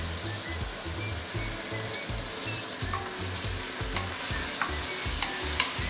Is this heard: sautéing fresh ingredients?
yes